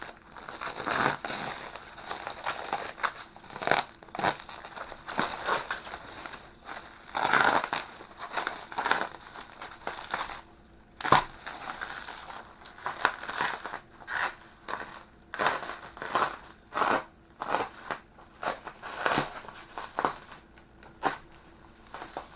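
Bubble wrap packaging is pulled and crumpled off an FN 49 rifle, giving close, irregular bursts of crinkling and crackling with short pauses between handfuls.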